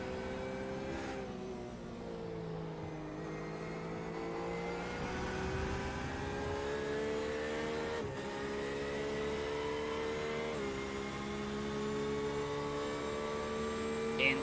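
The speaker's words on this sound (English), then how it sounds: "That flat six sounds amazing from the Porsche." Porsche flat-six engine in a racing video game at an endurance race at Sebring, a continuous whining engine note with rising and falling harmonics as the car shifts through gears, steady and moderately loud with no talk.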